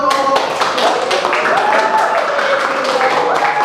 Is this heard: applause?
yes